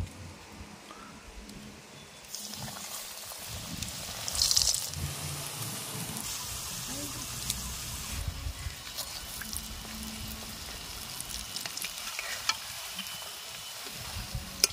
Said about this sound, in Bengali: তেলও গরম হয়ে গেছে। এবারে আমি একে একে ভেজে নেব।